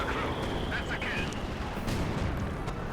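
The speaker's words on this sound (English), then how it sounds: "Looks like heavy artillery is going down right here" Heavy artillery barrage in Company of Heroes 2, a steady rumbling wash of distant booms and blasts that never lets up, with faint higher battle noises scattered on top.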